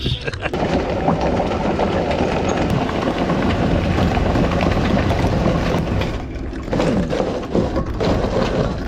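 A sailboat's anchor windlass hauling in the anchor with the engine in gear, a steady loud mechanical rumble and hum that continues throughout with little change, at anchor off the Dominican Republic.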